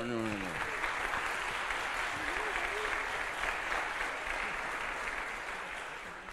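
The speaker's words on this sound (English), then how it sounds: "Let's give them a round of applause." A church congregation applauds steadily, a dense wash of clapping that slowly fades toward the end, with a brief voice at the start.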